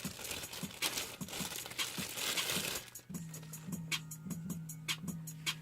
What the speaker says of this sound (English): Let me get this one out the plastic.